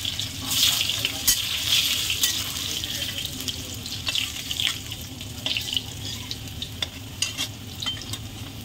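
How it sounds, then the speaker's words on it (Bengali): Potato pieces fry in hot oil in a kadai, giving a soft, steady sizzle with scattered crackles and pops, fairly close and alone without talk. "কড়াইতে তেল গরম হয়ে গেছে, আলুগুলো দিয়ে দেবো।"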